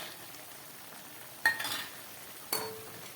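Fried lentil dumplings drop into a pan of okra curry with a soft clatter, followed by a brief sizzling stir and a second scrape of the spoon, close and moderately loud over a faint background hiss.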